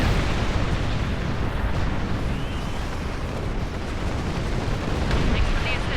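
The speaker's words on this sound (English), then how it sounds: "Warning. Artillery incoming. Exit area immediately." Continuous artillery bombardment in the sci-fi video game Star Trek Online, a dense rolling roar of explosions blending into a steady loud wash without distinct pauses.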